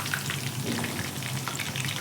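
Kebabs frying in hot oil until golden brown, giving a continuous dense bubbling sizzle up close, even and unbroken throughout with no talk.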